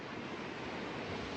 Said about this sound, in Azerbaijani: çox deyilənə görə çox şiddətli dalğalar gəlir.